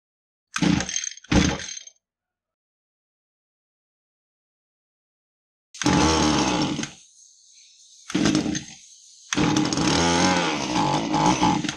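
Echo GT2000 string trimmer with a small two-stroke engine, freshly primed, catching in a short double burst, then after a pause running rough and uneven, surging and dropping out in loud near bursts.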